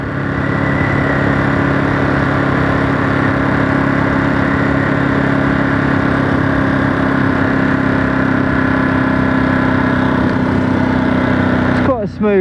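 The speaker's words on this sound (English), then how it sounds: "It's quite a smooth running engine." A 2023 Ducati Monster SP twin-cylinder motorcycle engine runs steadily and smoothly for the whole stretch, a constant mid-pitched thrum with a brief blip right at the end.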